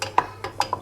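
A spoon stirring a cream and butter sauce in a pan, giving four quick metallic clinks against the pan in an uneven rhythm, close and fairly loud.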